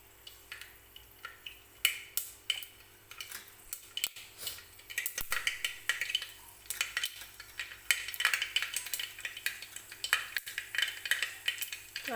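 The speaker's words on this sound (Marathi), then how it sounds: "मोहरी छान तडतडू द्यायची," Mustard seeds splutter in hot oil for a tempering, a dense run of sharp pops and crackles that build and thicken over several seconds, close and without talk.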